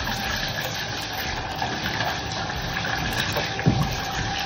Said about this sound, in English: I got my water running.